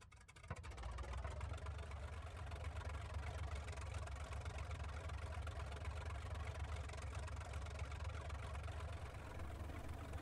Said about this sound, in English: the engines are going